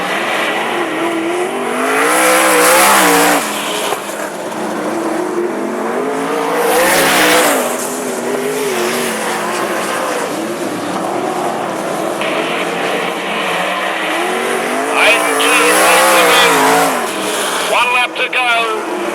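Sprint cars race around Mac's Speedway, engines roaring and swelling as they pass close by in repeated loud waves, with a commentator talking over the track noise.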